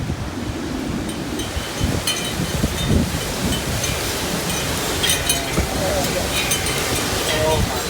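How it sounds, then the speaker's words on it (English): Rain falls outdoors after a stretch of hot weather, a dense, continuous hiss with gusty, wind-like swells. "right now, we definitely need this rain because lately it's been so hot"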